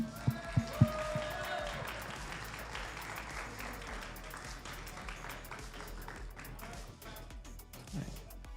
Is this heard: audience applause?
yes